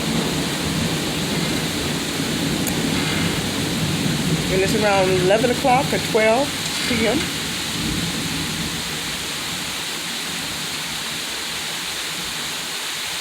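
A tropical storm in Ixtapa Zihuatanejo, Mexico pours a dense, steady roar of rain with a low rumble of thunder, loud and continuous while someone speaks over it.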